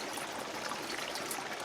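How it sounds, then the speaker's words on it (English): A small mountain creek in Colorado's Eagle Nest Wilderness flowing nearby, a steady, even rush and trickle of water with no other sounds. "I'll get you a view of that"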